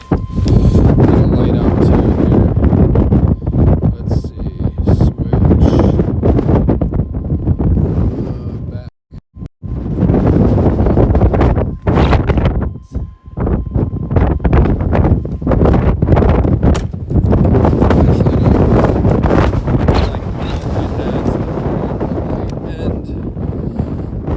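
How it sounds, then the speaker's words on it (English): Strong wind buffets a microphone outdoors at a dock by the water, a loud, rough, continuous rumble with a few brief lulls. A voice comes through now and then underneath. "It is probably going to get like pretty loud and obnoxious with this wind blowing here"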